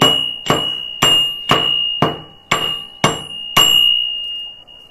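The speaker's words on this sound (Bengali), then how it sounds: "নামানোর একটু আগে আমি নামিয়ে দারুচিনি, এলাচ, লবঙ্গ একটু থেতো করে নিচ্ছে" Cinnamon, cardamom, cloves and ginger pounded in a small metal mortar, eight sharp ringing strikes at an even pace, each leaving a metallic ring that fades before the next.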